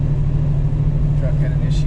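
A truck rolling past at a car cruise fun run, a loud steady low engine rumble close by with a constant hum, while people talk over it.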